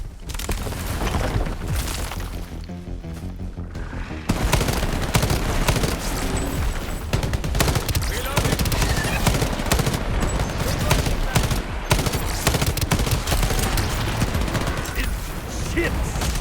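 Automatic gunfire in the online shooter Shatterline, with rapid bursts and sustained fusillades, impacts and booms filling the mix densely and loudly throughout, while a player talks over the action.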